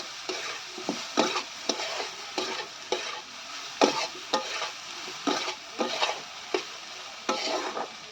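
Potatoes and small soybean chunks sautéing with spices in a pan: a steady sizzle of frying under regular scraping stirs of a spoon, about one every half second to second, close and moderately loud with no talking.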